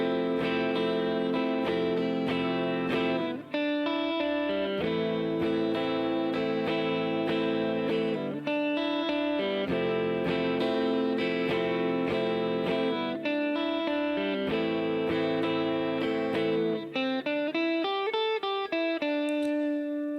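An acoustic guitar plays the intro to a song, strummed chords in a steady rhythm broken by single-note lead lick phrases, close and clear with no talking.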